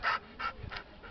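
A Belgian Shepherd dog pants close up in quick, even bursts of breathy huffs, about four in a second, with no talking.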